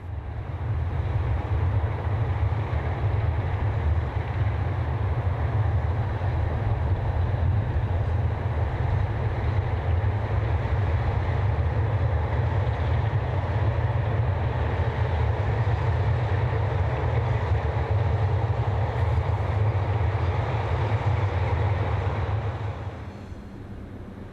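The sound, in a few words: Belgian Class 76 locomotives hauling a container train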